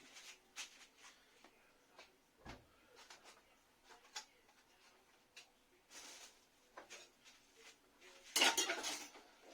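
A knife cuts sourdough bread on a plate, heard as quiet, scattered scrapes and taps of cutlery on the dish, with a louder clatter near the end and no talk.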